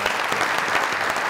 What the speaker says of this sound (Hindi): इनके लिए हम ताली बजाएंगे सर।